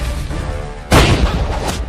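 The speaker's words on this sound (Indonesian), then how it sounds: "Beta bisa mendengar ledakan meriam lagi." A loud cannon blast booms out in an animated pirate-ship adventure, a sudden broad burst that cuts in about halfway through and rumbles on, following a quieter stretch of low background sound.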